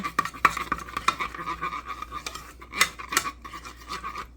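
Macaroni and cheese sauce from an Annie's organic shells and white aged cheddar kit being stirred in a pot, a steady scraping, clinking swirl of utensil against metal with repeated louder knocks, close and alone without talk.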